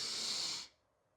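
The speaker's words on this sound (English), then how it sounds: "Final one. Breathing in." A long, airy inhale sounds close and soft, a steady breathy hiss that cuts off into quiet.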